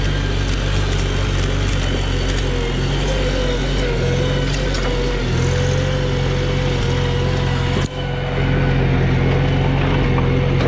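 A Farmall Super C tractor with a freshly rebuilt engine runs steadily on gravel, its continuous low mechanical drone holding even throughout, with a brief dip near the end before it resumes.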